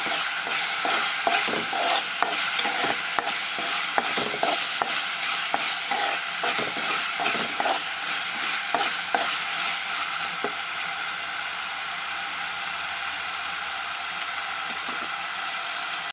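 Chicken masala frying in oil while a spoon stirs and scrapes the pan in quick clattering strokes over a steady sizzle, the scraping fading to sizzle alone toward the end.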